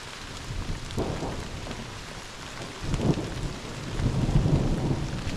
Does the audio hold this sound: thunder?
yes